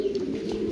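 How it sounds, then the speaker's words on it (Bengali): A white pigeon gives a single soft, throaty coo, close and brief, with no other sounds around it. "আমরা এখানে দেখতে পাচ্ছি হোয়াইট কালার মধ্যে আরেক জোড়া কবুতর রয়েছে"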